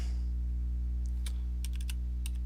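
Keystrokes on a computer keyboard while entering an nslookup command: a few scattered sharp clicks, then a quick cluster of taps and one more click, over a steady low electrical hum.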